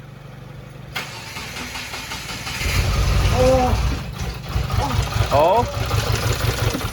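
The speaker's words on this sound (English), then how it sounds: "let's go ahead and try cranking it over." A rebuilt Subaru WRX FA20 engine cranks over in short bursts, with a pulsing starter churn near and fairly loud, a brief exclamation and some voices in the background between attempts.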